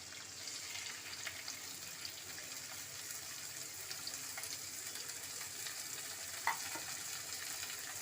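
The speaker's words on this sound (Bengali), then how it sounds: "এবার সবজিগুলো ভাজা পড়বে" A soft, steady sizzle of vegetables for fried rice frying in a pan, faint and continuous with occasional small pops, no voices.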